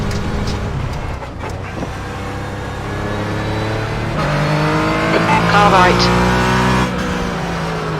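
Porsche Cayman GT4 engine in a Nurburgring sim racing game, revving and shifting through rising and falling gears with tire noise, loud and continuous under a spotter's voice calling traffic.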